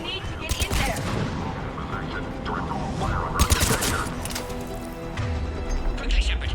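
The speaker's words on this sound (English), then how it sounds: "The checkpoint is under fire!" Rapid bursts of automatic gunfire and crackling shots at a checkpoint in a video game, loud and continuous, with voices speaking over the battle.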